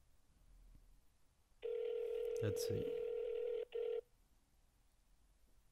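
An outgoing phone call rings back as a steady electronic tone held for about two seconds, a brief gap, then a shorter burst, moderately loud, with a voice speaking briefly over it.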